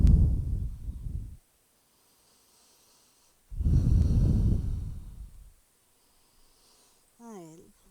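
Slow, deep breathing during a morning yoga flow, two long, loud, airy breaths up close with near-silent pauses between them, ending with a brief high wavering tone.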